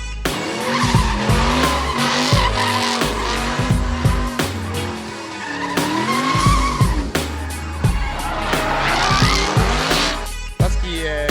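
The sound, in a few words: drift car skidding with tire squeal, Formula Drift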